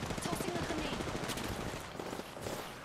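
Rapid automatic gunfire from the video game Apex Legends rattles in quick bursts at moderate volume, mixed with faint voices.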